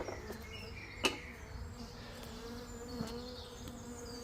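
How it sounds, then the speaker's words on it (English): Honey bees from a swarm settled in stored hive equipment buzz close by in a continuous, droning hum, with faint knocks as the hive box is handled. "So, the bees have moved up here at least."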